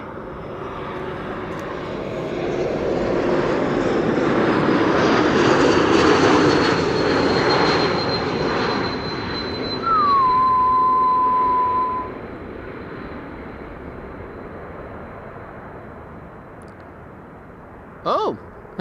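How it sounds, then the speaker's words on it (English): A KLM Embraer 195 E2 jet arriving from Stockholm rumbles in, building to a loud broad roar and then trailing off into a long fading whine, with a brief tonal beep and a click near the end. "This is KLM flight 1216, E2 Embraer 195 arriving from Stockholm"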